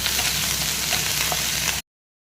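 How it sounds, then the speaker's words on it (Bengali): Grated ginger frying in oil in a kadai alongside fenugreek, a loud, dense, continuous sizzle that cuts off abruptly near the end. "আদা একটু ভাজা ভাজা হয়েছে"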